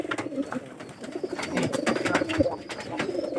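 Several pigeons coo close by in overlapping low, throaty calls, with wing flutters and light rustling, fairly busy and continuous.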